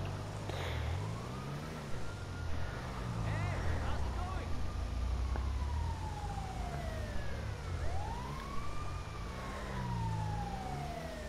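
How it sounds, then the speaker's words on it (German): Ambulance siren in the video game Grand Theft Auto V, its rising and falling wail repeating steadily over a low engine rumble and traffic noise throughout. "Hier kommt zwar jetzt gleich der Krankenwagen"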